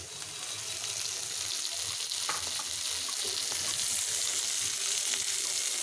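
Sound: pabda fish roe frying in a pan

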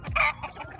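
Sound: farm chickens clucking

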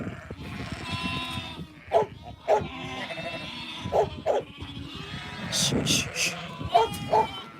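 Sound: Australian meat-breed sheep bleating

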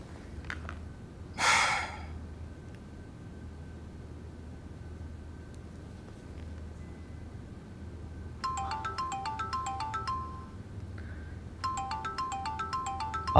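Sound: phone ringtone of an incoming call

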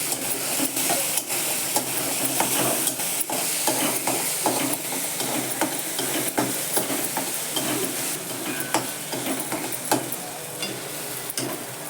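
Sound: vegetable added and stirred into sautéed lentils in pan

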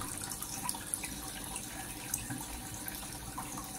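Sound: pouring water into an aquarium tank

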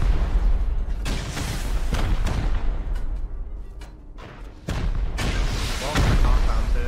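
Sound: rocket explosions during a raid in video game Rust

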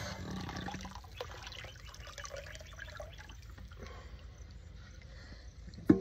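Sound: fish amino acid being added to a water tank

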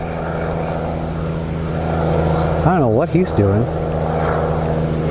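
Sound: helicopter flying overhead

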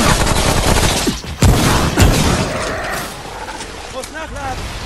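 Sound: gunfire in the video game Remnant

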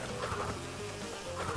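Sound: bees buzzing in Crash Bandicoot 2 video game

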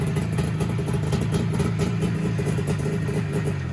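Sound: motorcycle engine running

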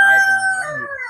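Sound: chicken crowing

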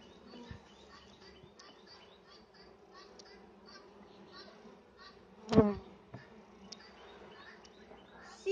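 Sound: honeybees buzzing around an opened beehive

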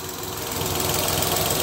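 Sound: Datsun Go+ engine idling

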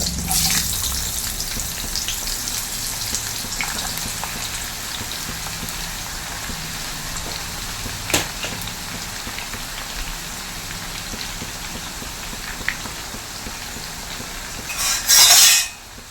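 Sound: raw mango pieces frying in oil

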